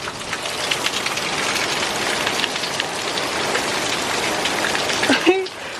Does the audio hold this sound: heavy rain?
yes